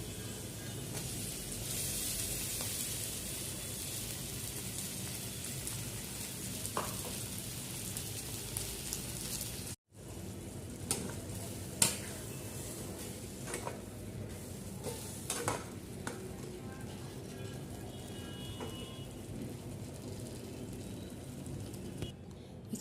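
Soaked sabudana tipped onto fried onions in a hot pan sizzles steadily with broadband crackle, broken by a brief gap then scattered clicks of a spoon stirring and scraping, close and moderately loud with no talk.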